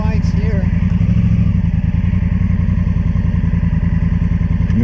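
A custom Honda Transalp motorcycle idles steadily nearby with an even low engine rumble, while voices talk over it.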